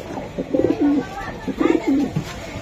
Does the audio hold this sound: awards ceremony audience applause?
no